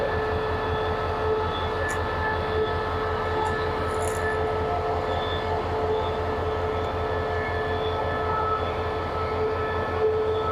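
Steady low rumble of a train at Hat Yai railway station, Thailand, with a constant droning hum and faint mechanical whine, sustained throughout with no voices.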